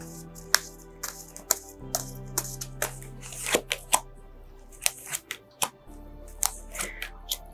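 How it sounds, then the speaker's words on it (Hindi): Tarot cards are shuffled and handled close up in a series of sharp riffles and slaps, irregularly spaced over a quiet low hum, with no talking. "कार्ड्स को हमने शफल करना शुरू कर दिया है।"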